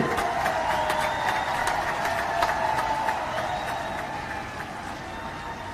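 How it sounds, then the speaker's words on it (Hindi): A large open-air political rally crowd in Karnal, Haryana, claps steadily in a dense, continuous wash of applause with a faint tonal hum from the public-address system underneath, holding its level throughout before easing slightly near the end. "सभी लोग तालियां बजाकर तालियों की गड़गड़ाहट से स्वागत करें"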